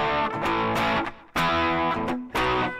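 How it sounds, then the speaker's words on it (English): Electric guitar through a crunchy distorted amp-model tone on a Raspberry Pi Pico multi-effects unit, recorded straight into a mixing desk, playing a few ringing chords with short pauses between strums. "Good for kind of crunch sounds."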